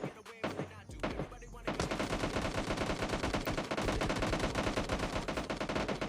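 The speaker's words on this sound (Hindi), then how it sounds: "तो मुझे कुछ फायरिंग की साउंड्स आती हैं" Gunfire in the PUBG Mobile Lite battle game rattles out in rapid bursts, a few separated shots at first and then dense, continuous automatic fire for several seconds, loud and close.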